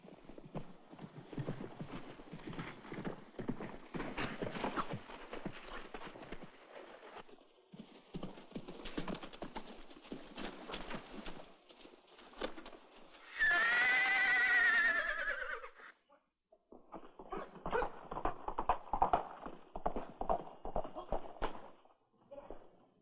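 Hooves clip-clop in a steady gallop, broken by a loud, drawn-out horse whinny, then the galloping resumes.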